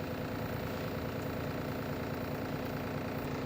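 Mixer grinder running steadily while grinding amla (gooseberry) for juice, a continuous dense motor whir with constant loudness and no pauses, close and alone.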